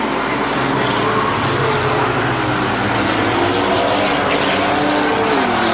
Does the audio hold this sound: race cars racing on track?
yes